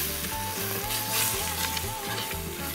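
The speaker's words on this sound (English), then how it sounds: "And then stir it all up" Brown sugar, flour and cumin are stirred in a hot pan, giving a soft, steady sizzle with faint scraping as the mixture is moved about, close and fairly quiet.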